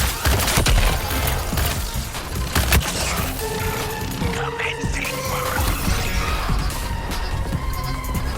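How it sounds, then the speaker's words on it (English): Artillery fire in Suicide Squad: Kill the Justice League, a dense barrage of loud bursts and crashes layered with machine-gun rattle and mechanical noise, with voices talking over the combat. "That artillery is deadly."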